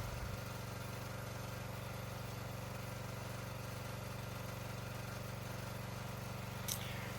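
A log splitter's engine runs at a steady, unchanging drone, low and moderately quiet, continuing without pause while splitting large firewood logs, with a brief faint scrape near the end.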